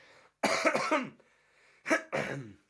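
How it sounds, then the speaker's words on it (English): Two bursts of coughing separated by a short pause, close and fairly loud, with a faint throat-clearing quality; no speech. "I'm about to cough again."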